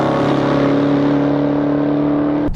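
A 2015 Dodge Charger SRT Hellcat holds a steady, loud engine and exhaust drone with a humming tonal note, cut off abruptly at the end.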